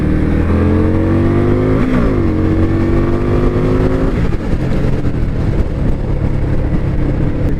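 A 2023 Indian Scout Bobber motorcycle riding on the freeway: a loud, close engine roar with rising revs, broken by two quick gear shifts, then a steady drone mixed with wind rush.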